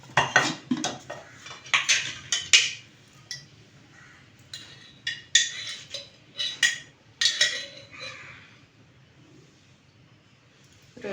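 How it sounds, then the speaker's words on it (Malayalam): A spoon stirs a ladoo mixture in a pan as ghee is added, giving irregular bursts of metal scraping and clinking against the pan with quiet pauses between them. "പിന്നെ അതിലേക്ക് കുറച്ച് നെയ്യ് ഒഴിക്കണം."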